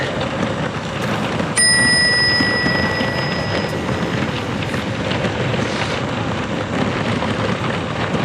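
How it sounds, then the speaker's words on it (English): Bicycle bell on a bike ridden along a gorge trail, one bright ring that hangs and fades over a couple of seconds above steady wind and riding noise. "Chance to ring my bell."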